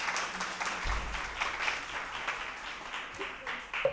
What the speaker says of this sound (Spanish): aplaudir al Señor, por favor